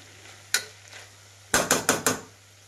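A spoon stirring sprouts with sambar powder in a pan: one scrape, then a quick run of four rhythmic scraping strokes, close and clear with no talk.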